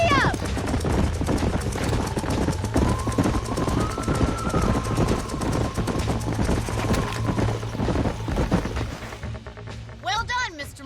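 Galloping horse hooves in the western video game Red Dead Redemption, a dense, steady clatter of hoofbeats from several horses running together, loud and close, with speech and game sounds mixed in near the end.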